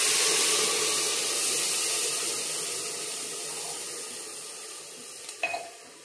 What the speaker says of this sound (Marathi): याच्यात आता आपण पाणी टाकून घेणार आहे।